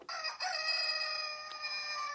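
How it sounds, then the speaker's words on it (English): A rooster crows once, a loud, drawn-out cock-a-doodle-doo that rings clearly against a quiet background. "Oh, that's more like a rooster, isn't it? A cockerel."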